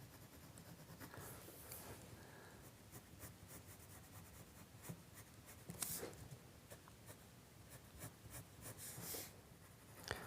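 Coloured pencil shading on paper while drawing a realistic fried egg, a steady soft scratchy rubbing of the lead across the sheet with small pressure changes and brief louder strokes, close and quiet, no talk.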